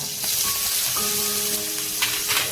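Onion sizzles steadily in oil over medium heat with curry leaves, green chilli, turmeric and asafoetida, a close, continuous hissing fry with faint tonal hum underneath.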